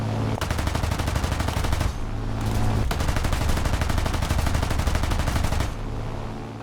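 Machine guns on a Brewster Buffalo fighter strafe a Japanese column in Malaya, 1941: loud, dense bursts of rapid fire roar almost continuously, broken by two brief pauses.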